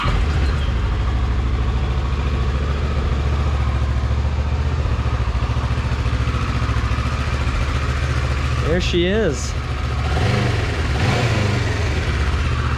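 A Kawasaki Versys 650 motorcycle with its stock exhaust idles steadily and fairly quietly from start to finish, a low, even engine rumble with no starting or revving, while someone speaks briefly partway through.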